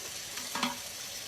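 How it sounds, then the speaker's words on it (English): Thai coconut soup stirred in a pot, a short burst of scraping and liquid sizzle with one louder clatter of the utensil near the middle, heard alone and close. "You notice I'm stirring the entire time."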